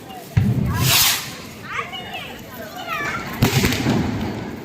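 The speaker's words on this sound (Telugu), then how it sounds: "చిచ్చుబుట్లు పేలుతున్నాయి వెనకరండి మీరు." Flower pot fireworks (chichubuddi) erupt twice during a Deepavali celebration, each a sudden hissing, crackling burst of sparks, while children and adults shout and talk close by.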